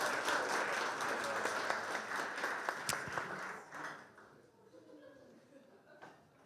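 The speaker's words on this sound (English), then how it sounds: "I think we can applaud one more time all the finalists once again in front of us." A wine competition audience applauds the finalists of Estonia's best sommelier contest, a sustained wash of clapping that tapers off after a few seconds as voices talk underneath.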